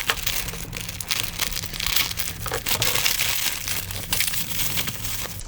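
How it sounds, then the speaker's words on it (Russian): A padded bubble envelope is torn open and unpacked up close, giving continuous crinkling, crumpling and tearing of paper and plastic film for several seconds with no speech. "Пришел вот в таком конверте, распаковываю."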